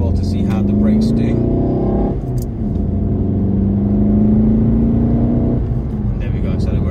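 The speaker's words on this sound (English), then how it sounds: "In terms of acceleration, obviously we've got to pick up some speed now, so I can demonstrate that" A 2013 Volkswagen Golf GTD diesel hatchback with a six-speed manual pulls hard, its engine note rising steadily through two gears with a brief dip at each shift, loud and close from inside the cabin.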